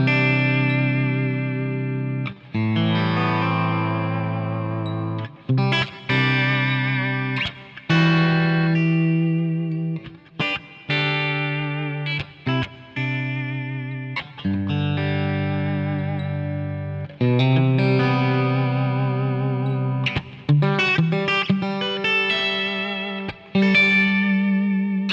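Clean electric guitar chords on a Stratocaster with a Vega-Trem tremolo ring out one after another, their pitch wavering and bending with a shimmering vibrato, separated by brief gaps and given a spacious echo.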